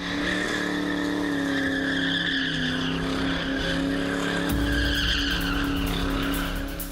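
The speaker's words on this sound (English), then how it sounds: "How about the sound of 427 cubic inches of Ford muscle?" A 427 cubic inch Ford muscle car engine roars loud and close with sustained tire skidding and squealing, the engine note wavering before a harsher burst near the end.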